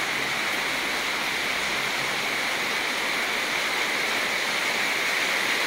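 Heavy rain pours down at a rest house at night, a dense, even roar of hissing water that stays loud and unbroken throughout with no voices.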